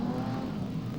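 Sprintcar engines roar together at Archerfield Speedway, a steady loud drone of several cars racing past at once with no pause.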